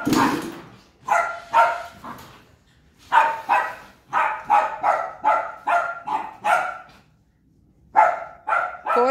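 A dog barks loudly and close by, in a long run of sharp, evenly spaced barks with a brief gap before a final pair, reacting to a motor being started nearby.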